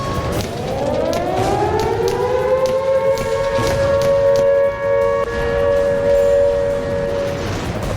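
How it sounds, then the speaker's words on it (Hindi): A civil defense siren in Khyber Pakhtunkhwa, Pakistan wails loudly and continuously, its tone rising and then holding a steady, sustained pitch over background rumble. "शहबाज ने खैबर पख्तूनख्वा के 29 शहरों में सायरन लगवाने के आदेश दे दिए हैं।"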